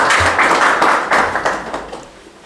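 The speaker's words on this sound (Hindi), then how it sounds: "मेरी तरफ से इनके लिए सभी तालियां बजा दें प्लीज।" An audience applauds teachers at a school study-site program, with dense, steady clapping that fades toward the end.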